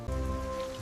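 Rain falls in an animated cartoon scene, a brief steady patter mixed with a low tonal hum.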